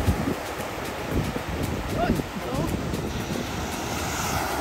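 Strong ocean waves break on a beach in La Union, a continuous rushing surf mixed with wind buffeting the microphone, with faint voices in the background.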